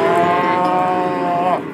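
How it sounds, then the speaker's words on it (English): A single long, loud moo from a steer on open rangeland in California's Owens Valley, sustained for nearly two seconds before trailing off, close to the microphone. "Ranchers have been grazing cattle in California's Owens Valley since the mid-1800s."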